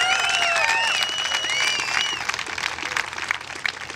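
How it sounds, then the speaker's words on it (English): Opening-ceremony audience applause swells into a broad, dense wash of clapping with whistles and cheers high above it, loud at first, then thinning toward scattered claps. "Let's give it a big round of applause."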